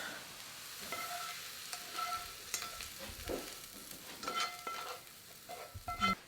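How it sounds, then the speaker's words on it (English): Leeks frying in a pan and stirred around, a fairly quiet crackling sizzle with uneven scraping and stirring bursts and a few clinks of a utensil. "I'm just going to stir that in so that the leeks are distributed throughout the bowl"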